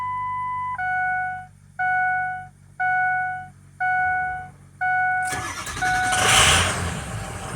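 A 6.0 liter engine fitted with a new 6.7 liter starter gets cranked: a loud pulsing whine repeats in five or six even bursts, then the engine catches quickly and settles into a roaring idle close by.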